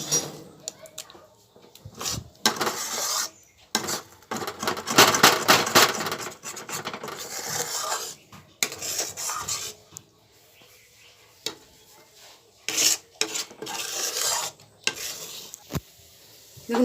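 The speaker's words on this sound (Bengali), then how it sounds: "ততক্ষণ আমরা এইভাবে হালকা আঁচে নাড়তে থাকবো।" Chholar dal dhoka batter being stirred in a pan over low heat, with intermittent scraping and rubbing strokes, soft sizzling between them and pauses of quiet.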